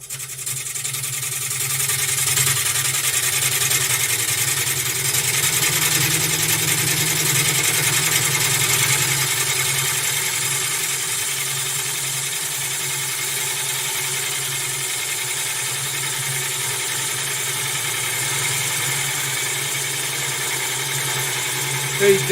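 A wood lathe spins at a higher speed, around 700, with a steady mechanical hum and whine that holds constant throughout and swells a little early on before settling.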